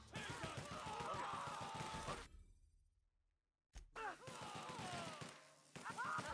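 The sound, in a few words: gunfire in The Outer Worlds video game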